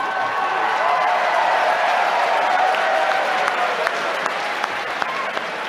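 A large crowd of older adults at a political event breaks into loud, sustained applause with some cheering, dense and continuous throughout.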